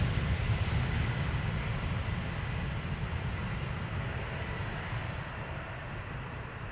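A 16-year-old Airbus A319 airliner at Schiphol Airport gives a broad, steady jet roar that fades slowly, with no voices over it.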